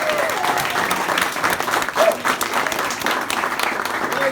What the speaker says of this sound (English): So let's put a round of applause together for Andrew.